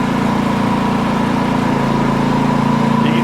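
A Champion 4500 watt portable generator engine runs under load with a steady, close buzzing drone and a faint rise in pitch toward the end, with no talking.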